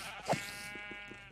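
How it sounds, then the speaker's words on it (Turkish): A sheep in the Minecraft video game bleats once after being hit, a short quavering cry followed by a sustained buzzing tone, with faint game sounds underneath. "Koyuna vurdum az evvel."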